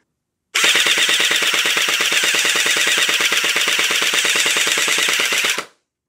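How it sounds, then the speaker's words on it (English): Gel blaster on full auto with its motor whirring in a steady, loud buzzing stream of rapid clicks for about five seconds, close up, with no talking. "So you can hear the motor sound changes as you adjust the screw."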